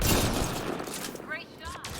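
Gunfire in the Mass Effect Andromeda video game: a dense burst of shots and impacts fills the first second, then tapers under brief in-game voices and effects.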